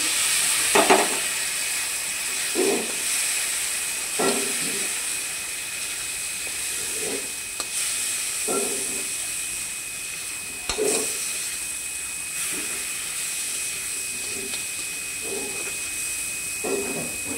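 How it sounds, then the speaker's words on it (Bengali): Dried fish fries in a pan as a little water is added, giving a continuous loud sizzle and hiss with recurring bursts of stirring and spattering. "ভালো করে ভেজে নেব। সামান্য জল দিয়ে দিচ্ছি।"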